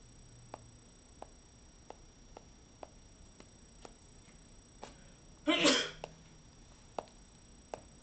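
A single sharp sneeze bursts out close by after a quiet stretch marked by faint regular ticks, then the room settles back to near silence.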